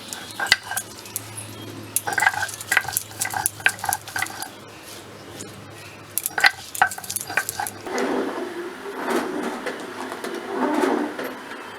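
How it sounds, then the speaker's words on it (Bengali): Meat is stirred and fried in a pan in a home kitchen, with a run of close metallic scrapes and clinks from the spoon, followed by a louder, steady sizzle near the end. "এবার আমি আর বাপি মিলে এখানে মাংসটা করে নেবো।"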